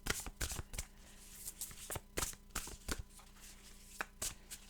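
A thick, heavy-stock deck of cards being shuffled by hand, with crisp riffling bursts and soft slaps repeating in quick, uneven clusters close to the microphone, quiet overall with no talk.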